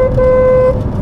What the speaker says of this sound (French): Klaxon marche.